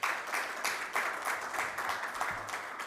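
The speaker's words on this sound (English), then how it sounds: "So please give him a round of applause" An audience at a St. Maarten Chamber of Commerce event applauds, a dense steady patter of many hands with slight swells, filling the space at moderate loudness with no talk over it.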